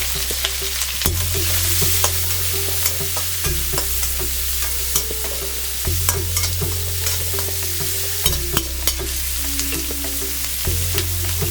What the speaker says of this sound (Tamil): வெங்காயம் வெந்துட்டு இருக்கட்டும்